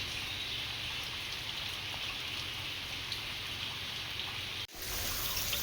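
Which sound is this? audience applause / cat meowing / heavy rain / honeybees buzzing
heavy rain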